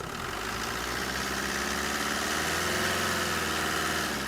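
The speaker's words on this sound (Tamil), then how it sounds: "இப்போ பாருங்கள், ரேஸ் பண்ண சொல்கிறேன்" A Tata Zest car engine runs steadily close by, a continuous even drone that rises slightly toward the end; no one speaks.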